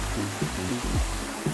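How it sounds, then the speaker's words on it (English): A small indoor waterfall in a greenhouse at the Garden of Morning Calm in Korea pours with a steady, close rushing splash, continuous and even, with a faint low hum beneath. "I like the little waterfall that we have."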